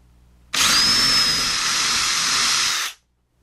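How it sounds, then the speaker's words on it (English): Power drill with a half-inch bit boring a hole through a wooden model railroad table, one continuous loud whining buzz of about two and a half seconds that starts abruptly and stops cleanly, no talk. "So let's go ahead and drill our hole to drop the cable through for the signal."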